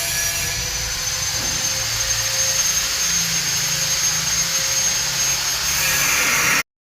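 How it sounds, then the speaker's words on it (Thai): A power drill bores into a wall for installing a window frame, a loud continuous whirring drone with a faint tonal whine, running steadily for several seconds before cutting off sharply. "เจาะง่ายอยู่"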